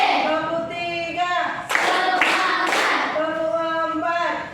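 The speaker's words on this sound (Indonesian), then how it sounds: "sekarang tepuk 1, tepuk 2, tepuk 3," Children clap together in a short rhythmic burst of several claps in a lively classroom, with sung or chanted voices before and after.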